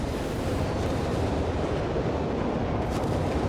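Tank fire and explosions from the video game Company of Heroes 3 form a dense, rumbling barrage of booms and blasts, steady and loud throughout with no clear pauses.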